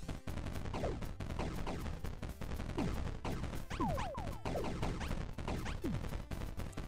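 A wall of turrets fires in the video game Robot Wants It All, rapid loud gunfire bursts crackling continuously with zapping, descending laser-like tones over a dense backdrop.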